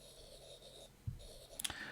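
Samsung S Pen stylus drawing across a tempered glass screen protector on a Galaxy S21 Ultra, giving soft, faint scratchy strokes with a couple of light taps near the end, heard alone.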